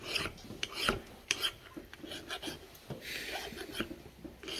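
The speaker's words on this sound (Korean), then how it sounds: "그래서 이런 거는 요걸로 해야 돼요. 줄질 잘해야 돼. 줄질." Hand file rasping across a milled metal workpiece from an end mill machining exercise, a run of close, uneven scraping strokes with short pauses between passes, alone with no talk.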